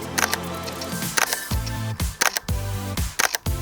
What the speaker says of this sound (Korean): 셔터 한번 들려드릴게요